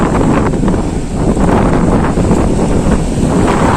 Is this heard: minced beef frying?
no